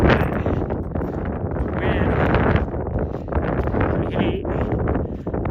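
Gusty wind buffets the microphone during a trail run in desert terrain, a loud, fluctuating rush of noise throughout with no talking.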